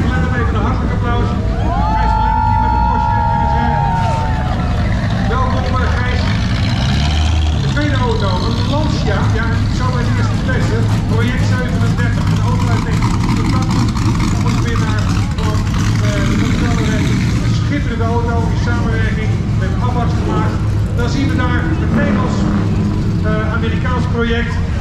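Porsche RSR Millennium 70 race car in a historic Grand Prix parade at Zandvoort, its engine droning steadily amid a loud crowd babble and PA commentary throughout, with traffic noise layered beneath.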